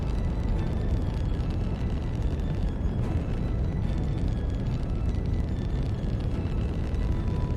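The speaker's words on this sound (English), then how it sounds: "Explosions." Rocket explosions in the space-flight game Kerbal Space Program 2: a dense, continuous roaring rumble with crackling blast texture, loud and steady throughout with no talking.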